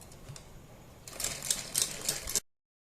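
A sewing machine stitches a fabric neck band, starting after a quiet lead-in with a close, rapid mechanical chatter in short bursts for over a second, then cutting off abruptly into silence.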